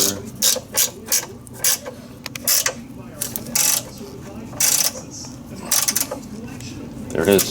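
A ratchet wrench tightens the nuts on a stainless steel cooling fan shroud for high-flow fans on a DeLorean, giving repeated close clicking bursts in short rhythmic strokes, with brief speech between them.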